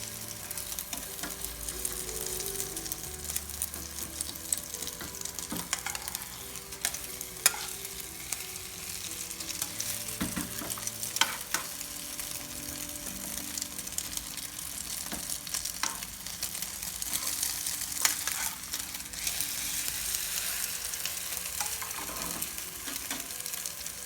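A Japanese-style Bangladeshi egg roll cooks in a frying pan: a steady, close sizzle runs throughout, with intermittent scraping and tapping as the egg is rolled, and no one speaks.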